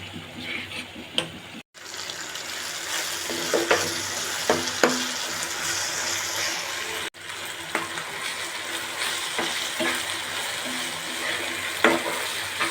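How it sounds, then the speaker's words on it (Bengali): Spices with turmeric and chili powder frying in a pan, a steady sizzle broken by scraping stirs and a few sharper knocks of the spoon, close and continuous. "এখন আমি সবগুলো নেড়ে চেড়ে এটা এখন ভালোভাবে কষিয়ে নেব কিছুক্ষণ"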